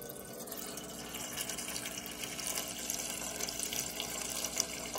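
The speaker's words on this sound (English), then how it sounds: "Gonna have to get the water out of here since that one's not ready yet." Water is poured and emptied out at home, a steady faint trickling splash that builds slightly toward the end, with no voices.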